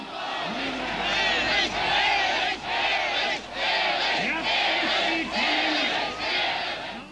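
A crowd of FDJ youth at a rally chants and cheers in rhythmic waves, loud massed voices rising and falling in repeated bursts.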